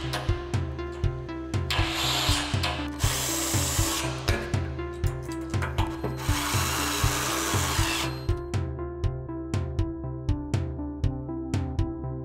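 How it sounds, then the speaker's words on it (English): Power tool driving screws into the corners of a REXframe silicone edge graphic frame, with repeated short whirring bursts and clicking taps, some longer buzzing runs, close and alone without speech. "fasten both top and bottom screws for all 4 corners."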